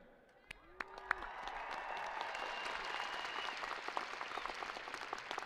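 A crowd at a Western Kentucky University commencement ceremony breaks into applause, starting with a few scattered claps and swelling into sustained, dense clapping from many people.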